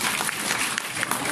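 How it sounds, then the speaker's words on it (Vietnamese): Audience applause at an apartment sales presentation, a short burst of clapping from a crowd with some voices mixed in. "Cho thêm một tràng pháo tay đi bạn"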